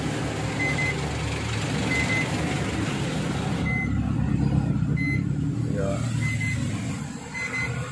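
A Whirlpool microwave oven's control panel beeps in short, evenly spaced tones, about six of them over roughly eight seconds, above steady background noise with some talking.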